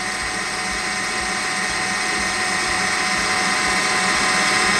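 Stand mixer whipping Swiss meringue at high speed, a steady loud motorized whine with a constant buzzing drone held throughout, no pauses or voices.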